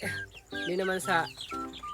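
A chicken clucks in a short burst of a few rising, throaty notes, close by.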